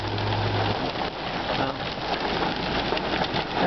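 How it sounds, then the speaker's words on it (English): Steady, heavy rain pours down continuously during a June storm near Rosthern and Hague, a dense hiss of drops hitting surfaces close by, with no voices and no pauses. "Mostly just rain."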